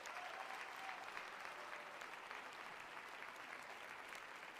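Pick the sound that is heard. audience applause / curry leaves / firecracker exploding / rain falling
audience applause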